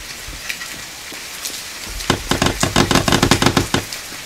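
Rain in the survival game The Forest, a steady patter that swells after a quiet start into dense, close drumming on surfaces with crackling drops.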